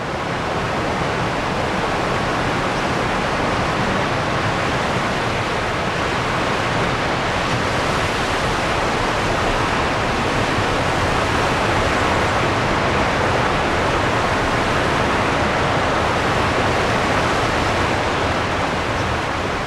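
White-water rapids roar over fall after fall on a river during a canoe descent from Everest, a loud, steady, unbroken rush of churning water with no voices.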